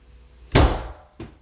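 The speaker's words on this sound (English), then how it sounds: "Did you just slam my fucking door?" A single loud door slam bangs shut in a room, followed by a softer knock or rattle a moment later, with no talking.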